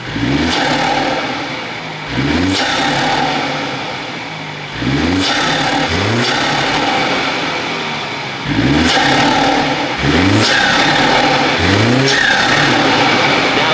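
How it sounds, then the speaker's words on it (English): A BMW 330i with an aftermarket intake revs repeatedly, each rise in engine pitch followed by a drop, with turbo whoosh and intake noise loud and close across several throttle blips. "that turbo noise sounds so freaking good, and it's all thanks to that intake"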